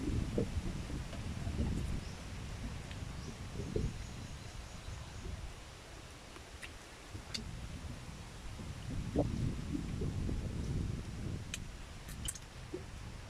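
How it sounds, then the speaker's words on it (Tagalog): Gusty wind buffets the microphone outdoors in low rumbling waves, with faint rustling and occasional small chirps in the background. "Sobrang hangin."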